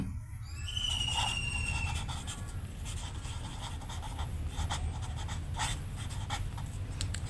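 A pen or pencil scratches across paper while a math problem is worked by hand, soft, close and continuous, with a few short squeaky strokes at the start.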